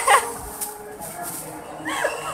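Dogs yip and whimper in short bursts close by, while people talk and laugh over them.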